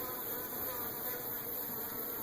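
Bees hum around beehives outdoors, a faint, steady buzzing with a few drifting whines, heard at low level from a short distance and with no voices.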